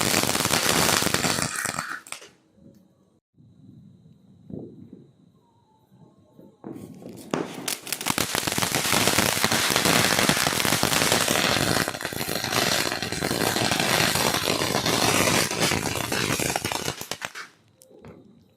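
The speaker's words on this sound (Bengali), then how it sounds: "কমপ্লিট ডিজাস্টার ছিল আমাদের বাজি ফাটানো।" Firecrackers bursting at a festive night gathering: long stretches of dense, loud crackling and popping, broken by a quieter gap with scattered sounds before the rapid bursts resume and continue until cutting off.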